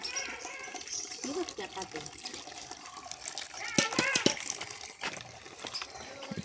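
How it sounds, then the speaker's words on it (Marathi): Water gushes forcefully with a constant rushing hiss while people, including a child, talk over it nearby. "पाणीला एकदम फोर्सनी पाणी येते"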